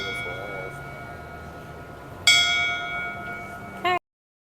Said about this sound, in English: It's brass. It's cool. That's a real bell.